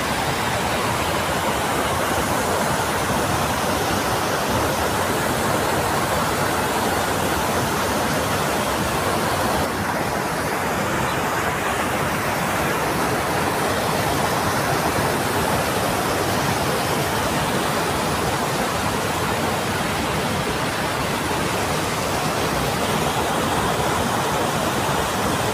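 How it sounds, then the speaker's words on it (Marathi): Water plunges roughly fifteen feet down a waterfall in the Dapoli area of Konkan, a loud, constant roaring wash that stays even and unbroken throughout, with no one speaking. "हा असा पाणी वरून ओसंडून वाहतोय. कमसे कम 15 फूट खाली असा वरून खाली कोसळतोय"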